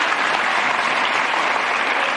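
Audience applause at an ANC-linked COSAS gathering in South Africa, a steady, dense wash of clapping that holds at full strength for the whole stretch with no voices over it.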